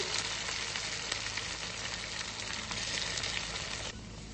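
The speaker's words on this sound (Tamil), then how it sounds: "எண்ணெயில இந்த சில்லியை போட்டு ஆட் பண்ணுறேன்" Chili frying in hot oil makes a steady, dense sizzle that holds close and even for several seconds, then drops noticeably quieter near the end. No one speaks.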